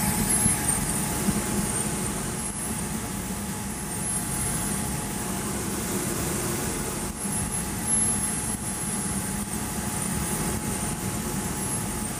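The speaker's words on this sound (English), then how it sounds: "the jet uses a fair amount of fuel even during taxi" A SubSonex small single-seat jet in flight gives off a steady, even engine drone with a faint whine, heard continuously from close by with no talking.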